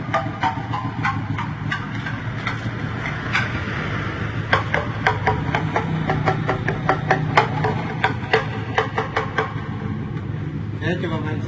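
A hanging Gaba Gaba instrument, tuned chromatically over two octaves, is struck in a quick series of bright percussive knocks, some notes ringing briefly, with a voice speaking over parts of it.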